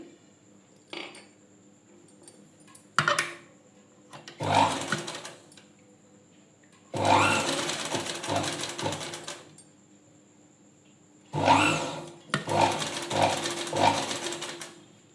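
A sewing machine stitches a strip onto the wrong side of a puff blouse sleeve in several separate runs. Each run is a loud, steady mechanical whir lasting a few seconds, with short pauses and quiet handling noises in between.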